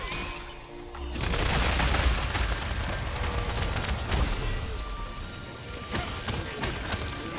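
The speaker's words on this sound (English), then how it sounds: "That got us a nice bit of emerald explosion." An emerald explosion in a video game makes a dense, roaring blast that surges after a second and rumbles steadily on, loud and close, with scattered crackling debris throughout.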